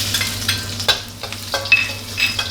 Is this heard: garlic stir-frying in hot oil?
yes